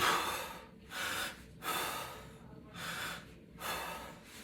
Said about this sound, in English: your breathing should look like this